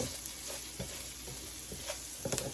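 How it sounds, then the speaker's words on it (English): A rubber spatula stirs vegetable curry in a hot pan, with a steady quiet sizzle broken by soft scraping strokes and a few sharper clicks near the end, no talk. "I'm using a rubber spatula."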